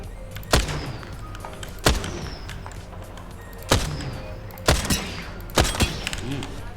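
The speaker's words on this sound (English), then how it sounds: "Opening fire." Assault rifle fire in a video game: five sharp, loud gunshot bursts spaced irregularly over steady game background noise, with no talking.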